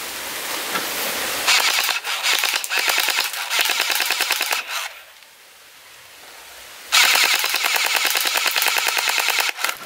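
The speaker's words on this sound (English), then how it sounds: "Jump machine gun!" A toy machine gun fires long bursts of rapid, loud rattling clicks, pausing briefly for a quieter stretch before another burst starts.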